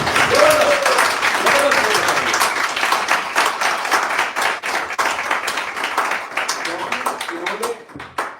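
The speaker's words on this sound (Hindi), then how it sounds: "तो एक जबरदस्त तालियां रोशन जी के लिए" Audience at a network marketing business motivation event claps for a speaker, a loud burst of applause with rhythmic individual claps standing out, fading gradually toward the end while a voice speaks over it.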